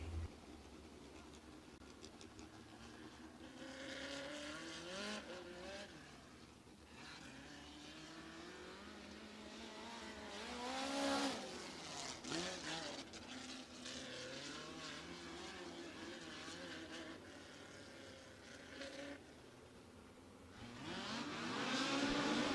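USAC National Midget race cars circle the track at Sweet Springs Motorsports Complex, with engines rising and falling in pitch as several cars pass one after another, swelling loud near the middle and end.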